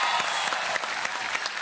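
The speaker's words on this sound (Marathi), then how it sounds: "गुरूंसाठी जोरदार टाळ्या" A studio audience at a Marathi comedy show breaks into a brief, full burst of applause, many hands clapping in a dense, even wash.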